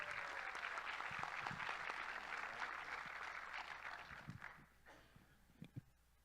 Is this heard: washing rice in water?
no